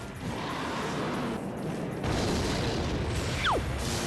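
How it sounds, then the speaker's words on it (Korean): Clash Royale mobile game audio as a rocket spell is fired and explodes: a dense, loud booming rumble with a short whistling sweep near the end. "일단 로켓 쏘고"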